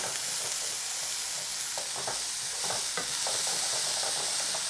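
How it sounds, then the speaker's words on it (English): Peppers sizzle steadily in a hot frying pan while a utensil scrapes and clatters through them in short bursts, a close, continuous hiss with no voices. "stir this in. Cook it for another 2-3 minutes, just till the peppers are soft"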